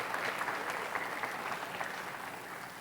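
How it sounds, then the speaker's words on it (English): An audience at a high school magic show gives a volunteer a round of applause, a steady, fairly soft wash of many hands clapping from across the room. "Give her a nice round of applause"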